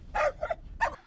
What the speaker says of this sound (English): if you listen, you can still hear the dogs barking